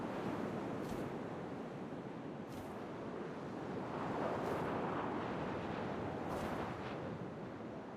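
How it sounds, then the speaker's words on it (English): Wind rushes steadily through the video game What Remains of Edith Finch, a dense, continuous roar with a few soft gusty swells and no speech. "First, all I heard was the wind."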